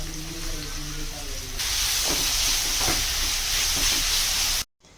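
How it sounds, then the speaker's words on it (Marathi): Sliced onion with curry leaves frying in oil, a loud close hiss of sizzling that swells after a quieter start and holds steady before cutting off abruptly at the end. "त्यामध्ये हा उभा चिरलेला कांदा घातला। कांदा लालसर गुलाबी रंगावर छान परतून घ्यायचा।"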